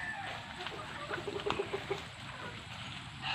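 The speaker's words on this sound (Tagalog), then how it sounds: "Ito naman yung ating mga manok rito." Backyard chickens on a small farm cluck softly while eating, a short run of quick clucks mid-clip over steady outdoor background noise.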